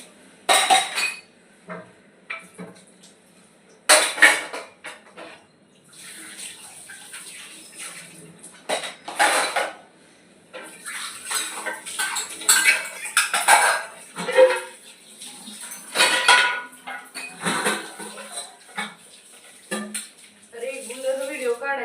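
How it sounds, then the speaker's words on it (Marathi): Pots, plates and cutlery being scrubbed and washed at a home sink, with irregular clinks, clanks and scraping bursts close by, water splashing and a voice speaking at times. "पहिलं भांडी वगैरे घासलं घेऊ"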